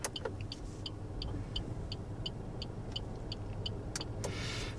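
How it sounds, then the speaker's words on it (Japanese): A 2024 Suzuki Xbee's turn signal ticks steadily and evenly about every third of a second over a low, constant engine hum inside the car, with a few brighter clicks near the end. "ウインカーの音、すごくね、耳障りではなくて、シンプルな音なんですよね"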